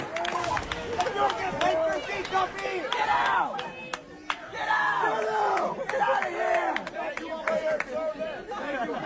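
A large video game crowd shouts and screams loudly and continuously, many voices overlapping in a dense, chaotic roar.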